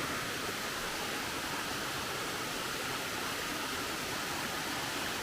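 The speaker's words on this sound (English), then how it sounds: "It's a small waterfall, but beautiful nonetheless." A small waterfall beside a hiking trail at Black Rock Mountain State Park pours in a steady, dense rushing roar, close and constant with no voices.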